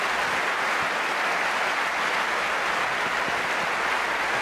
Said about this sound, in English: Extended applause, Tim Henman, for what was a superbly constructed rally.